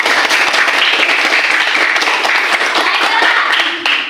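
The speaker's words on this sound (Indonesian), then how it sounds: "Betul ya, tepuk tangan semuanya." Many hands clap together in a classroom, a dense continuous burst of applause from a group of students lasting about four seconds, loud and close, with a few voices mixed in.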